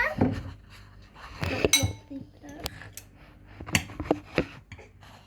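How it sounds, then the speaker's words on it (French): A metal spoon clinks and scrapes around a bowl while mixing honey for milk chocolate chip cookie dough, with irregular close taps and clatters and a voice speaking in between. "Mélange bien ce miel. Il faut que la cuillère aille partout, partout."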